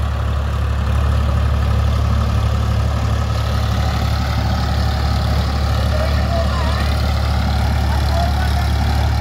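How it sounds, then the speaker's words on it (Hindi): A Ford 3600 tractor engine runs steadily at close range, a loud, continuous low diesel rumble lasting throughout without a break. "दोस्तों चलता हुआ भी देखो कितना शानदार लग रहा है"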